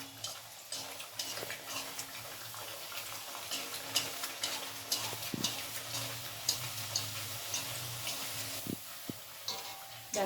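Moong dal kochuri puri frying in hot white oil, a soft continuous bubbling sizzle with small ticking pops and occasional utensil knocks, fairly quiet and close.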